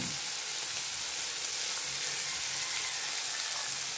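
Pork sizzles and fries steadily in a pan with a bright continuous crackle, occasionally disturbed by stirring, close and alone without speech.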